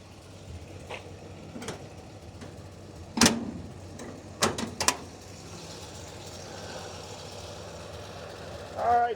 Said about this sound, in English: These doors, you got to give them a nice firm close.